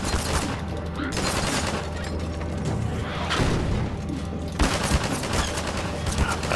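Sustained gunfire in the video game Half-Life 2, with rapid bursts and heavy impacts layered over a constant mechanical rumble, loud and continuous throughout.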